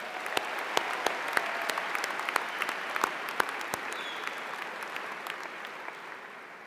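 Audience applause rings out at a university graduate school diploma ceremony in a large hall, a steady wash of many clapping hands with sharp individual claps standing out, fading slightly toward the end.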